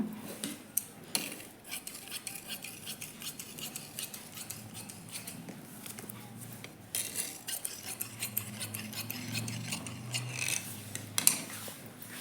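Scissors cutting through folded blouse fabric: steady, close snipping and crisp rustling of cloth, continuing throughout with brief pauses, no talking.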